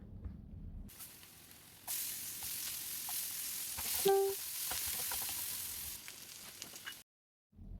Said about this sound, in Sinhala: ඒ වගේම ඒක ටිකක් හොඳට තෙල් එකත් එක්ක මික්ස් කරලා දාගන්නවා බී ලුණු ටික.